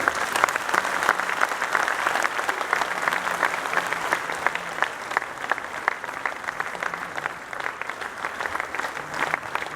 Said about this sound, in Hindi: आप जोरदार ताली बजाइए।